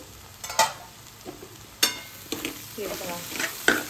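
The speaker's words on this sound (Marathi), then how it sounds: "अशी मध्ये मध्ये थोडं हलवत राहायचंय, म्हणजे खालून करपणार नाही" Cabbage and vegetables with crushed peanuts sizzling on low heat while being stirred in a pan, with scattered scraping strokes and bursts of frying over a quiet background.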